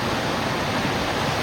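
Falling Springs Falls, a waterfall over 80 feet tall in Alleghany County, Virginia, in heavy flow after rain: a dense, steady broadband roar of falling water, close and constant.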